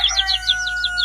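Cartoon jungle birds chirp in quick, repeated high tweets, a steady bright pattern of calls over a faint tone, with no voices.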